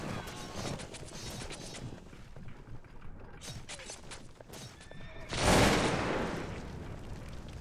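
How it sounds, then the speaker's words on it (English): Artillery fires during a Cossacks 2 battle, with rattling gunfire and mechanical creaks building up to one loud, sharp blast that rolls off into a fading rumble. "Artillery is firing on our troops."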